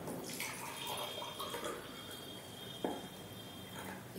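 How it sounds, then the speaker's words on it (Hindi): Hot water is poured steadily into a container for a Fevikwik glue experiment, a soft continuous splashing rush of about four seconds with no talking. "गर्म पानी मैंने इसमें डाल दिया।"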